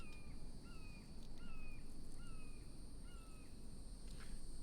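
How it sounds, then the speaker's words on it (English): Repeated bird calls in a survival video game, a series of clear, evenly spaced chirping whistles over a steady background hiss of ambience. "The bird sounds are so impressive in this game."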